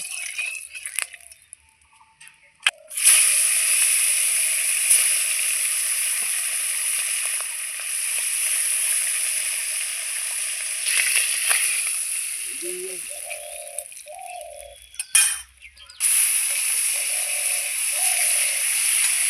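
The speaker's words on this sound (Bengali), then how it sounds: "আমার এক এক করে মাছগুলো এই যে ভাজা হয়ে যাচ্ছে" Small hilsa fish fry in hot oil with a loud, steady sizzle that drops out briefly twice before surging back.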